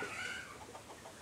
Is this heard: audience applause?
no